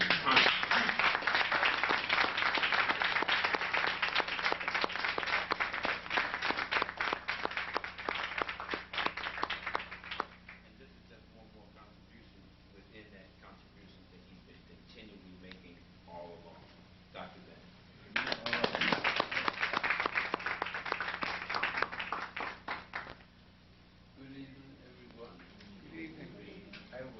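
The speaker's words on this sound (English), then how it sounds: "we need to give him a warm round of applause for the contribution" Audience clapping at a lecture on Kemet and religion, a warm round of applause lasting about ten seconds, a quiet stretch with faint voices, then a second burst of clapping that fades into a speaking voice.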